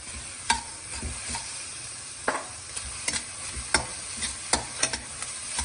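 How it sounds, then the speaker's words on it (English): Boiled, grated beetroot tossed into a hot pan, sizzling steadily while a spoon scrapes and stirs in irregular knocks, close and fairly quiet, with no talking. "Now adding beetroot, which is 1 beetroot boiled and grated."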